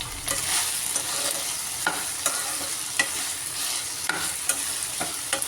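Fried chapati pieces for chilli chapati are stirred in a pan, a spatula scraping and clanking against the metal at irregular intervals over a soft continuous sizzle, close and alone without talking.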